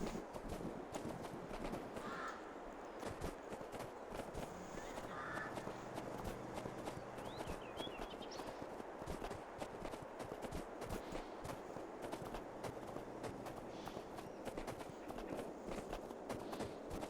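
Continuous clip-clop of horse hoofbeats during a ride in the video game Farming Simulator 22, a steady rhythmic gait, faint and even throughout, with crow caws in the background.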